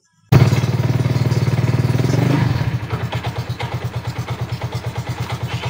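A Yamaha Mio Soul 115 carbureted scooter engine is kick-started with a weak battery, catching abruptly and running loud and rough before settling into a steady, pulsing idle close by.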